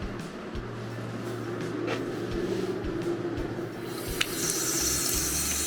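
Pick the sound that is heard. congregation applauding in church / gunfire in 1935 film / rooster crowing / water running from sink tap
water running from sink tap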